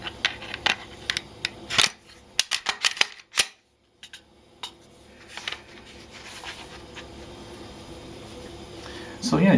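An olive drab Glock 19 Gen4 pistol is put back together, producing a run of sharp metallic clicks and snaps followed by a quieter stretch of handling noise.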